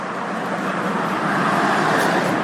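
Street traffic rolls past near a traffic light, a steady broadband hiss of car tyres and engines swelling slightly louder as vehicles approach, heard from the roadside with no talking.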